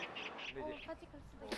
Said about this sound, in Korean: 새소리 들리지. 새소리 너무 좋아요.